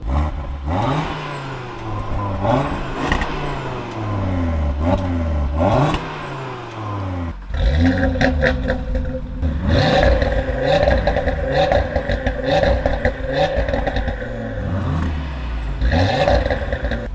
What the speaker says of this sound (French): Pour vous faire écouter le bruit sur celle-ci, voilà ce que ça donne comparé à l'autre RS3.